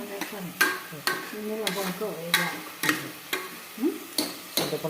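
A spoon stirs turmeric and tamarind into fenugreek dal in a pot, giving about ten sharp, evenly spaced scraping strokes over a soft sizzle.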